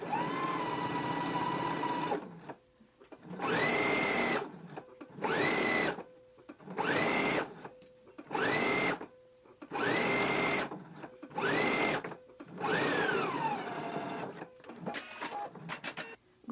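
Sewing machine stitching a sleeve hem along an inner pressed edge on a shirt: about eight distinct motor bursts of whirring stitching separated by short pauses, close and clear, with no talking.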